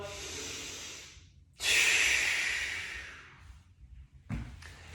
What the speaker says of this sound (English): take a deep breath. And another one.